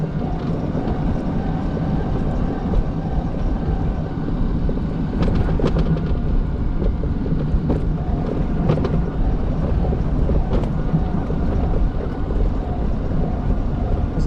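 Wind roaring across a motorcycle rider's microphone on a sunny afternoon ride, a loud steady broadband rumble with brief gusty bursts and no talking.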